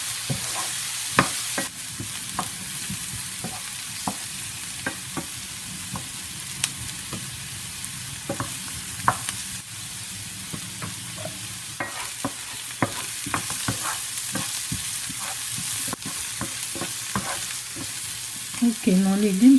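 Vegetables, likely courgette and potato, sizzle and fry in a pan, with a continuous crackle broken by repeated scrapes and stirring clicks, close and alone.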